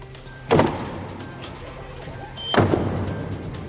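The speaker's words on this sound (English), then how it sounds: "The doors of the Sistine Chapel close as the conclave begins in the Vatican." The heavy doors of the Sistine Chapel in the Vatican close at the start of a papal conclave, giving two solid thuds a couple of seconds apart over a low, steady room hum.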